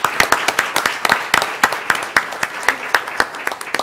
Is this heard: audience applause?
yes